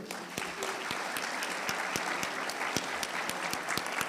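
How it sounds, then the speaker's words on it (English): An audience at a charity's annual meeting claps for award winners, continuous applause with a few sharper individual claps standing out. "how about another round of applause for all of our award winners today?"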